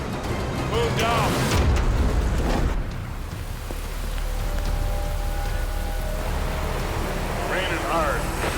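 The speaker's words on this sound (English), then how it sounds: "Raining hard." Heavy rain pounds steadily on a surface during a highway storm in the Fraser Valley, a dense continuous hiss with a brief lull midway, while people talk and shout over it.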